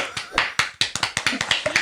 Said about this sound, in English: Clapping for ourselves, because who else is going to do that?